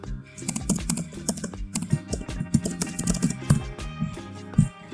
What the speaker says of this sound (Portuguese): Digita o nome da tua aplicação.